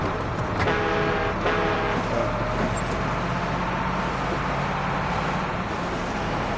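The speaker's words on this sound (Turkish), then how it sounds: "Korna çalıyor." A car horn in the video game Far Cry 6 honks in a couple of short blasts over steady engine and traffic rumble, followed by continuous road noise.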